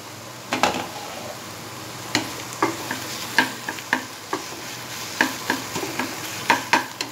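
Tomatoes mashed with a spatula in a pan, giving a series of sharp scraping and tapping strokes at an irregular rhythm over a faint, steady background of low sizzle, close and fairly quiet.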